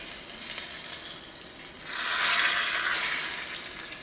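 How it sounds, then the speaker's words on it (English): Sauce poured over a tray of low-carb ribs sizzles loudly, a steady hiss that swells sharply midway and holds bright and close before easing slightly, with no talking. "pour it right over the top of my ribs"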